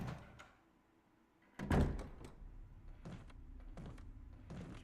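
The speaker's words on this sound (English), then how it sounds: "door." A door opens in the Resident Evil Remake video game, a loud mechanical creak and thud bursting in after quieter ambient game sounds, followed by lighter clunks and rustles.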